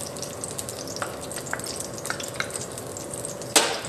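Garlic sizzles in hot cooking oil in a pan, a steady close hiss dotted with small pops and crackles and a sharper burst near the end.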